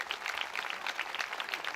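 A crowd at a mass wedding ceremony claps together, a dense, steady patter of many hands filling the space for a couple of seconds, fairly loud and without talk over it.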